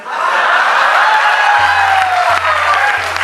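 Loud, steady applause and cheering fill a college hall at a poetry recital at MANIT Bhopal, with a few whoops rising from the crowd.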